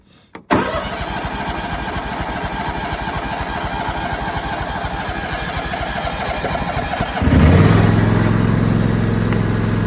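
A John Deere X500 lawn tractor engine cranks and catches with choke applied, settling into a loud, steady mid-pitched run that surges into a higher, rougher roar near the end; no talking.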